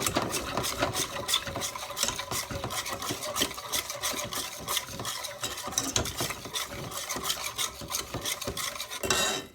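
A whisk scrapes steadily around a pan as milk is stirred into a sauce for chicken pasta bake, a quick, rhythmic rasping of metal against the pan that carries on without a break.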